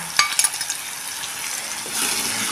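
Chili powder and sambar masala sizzle in hot oil in a pan for a no-onion, no-garlic dal and pumpkin amti, with a few sharp utensil clinks near the start over a steady frying hiss.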